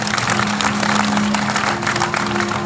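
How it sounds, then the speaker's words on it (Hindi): Loud, dense applause from an audience welcoming saints at a Hindu temple katha gathering, continuous clapping throughout with a faint steady tone underneath. "एक बार पूज्य संतों का जोरदार ताली बजा करके स्वागत करें"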